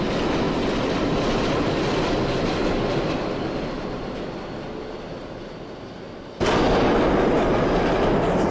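An R160B Siemens subway train runs on rails in the OpenBVE simulator on the W line to Jamaica Center via the Queens Boulevard express. Loud, steady rumble and wheel noise fade a little, then the roar jumps back up abruptly near the end.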